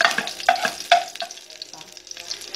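Olive oil heating in a small pan, stirred with a wooden spoon, gives a steady close sizzle broken by a few sharp scraping knocks of the spoon against the pan.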